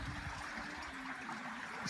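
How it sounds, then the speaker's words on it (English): Thin trickle of water running over the infinity edge of a pool that is low on water, with the autofill not working. A faint, steady flow sits under the outdoor background. "how the water runs over the side on the Infinity Edge"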